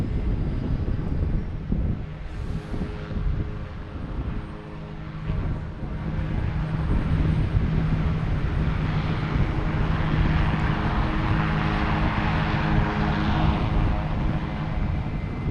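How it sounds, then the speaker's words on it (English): A propeller plane's engine fires up at Boston Logan Airport, a steady loud droning roar with a low hum that continues for the whole stretch, mixed with wind buffeting on the microphone. "can't get much of a sound with a prop plane here firing up"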